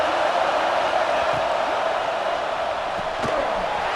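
A football stadium crowd at a Penn State versus Ohio State college game roars steadily on third and goal, a dense, loud, unbroken wash of cheering and noise that fills the space.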